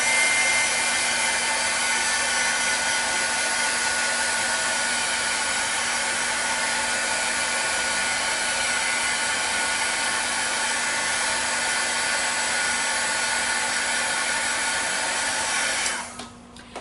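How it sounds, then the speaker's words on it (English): An embossing heat tool blows a steady, loud whooshing hum while drying a Christmas craft tag, held continuously for about sixteen seconds before clicking off, with no voices. "Then I'm going to hit it once again with the embossing tool to dry it."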